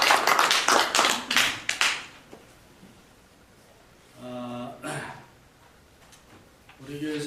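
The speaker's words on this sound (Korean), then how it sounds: "그래서 같이 한번 축하하는 의미에서 박수로." A church congregation claps to mark a couple's 40th wedding anniversary: close, dense clapping for about two seconds that then fades, followed by brief stretches of voices.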